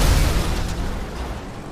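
Fireworks explode in a GTA street scene, a dense rumbling boom that fades slowly across the moment, close and fairly loud, with no talk.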